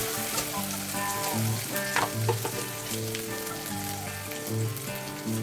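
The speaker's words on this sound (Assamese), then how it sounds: "এইটোও মই অকণমান ভাজি ল'ম যাতে তাৰে কেঁচা গন্ধটো গুচি যায়" Loud, dense sizzling of ginger garlic paste frying in a pan, with crackles and pops throughout and occasional stirring scrapes, no voices.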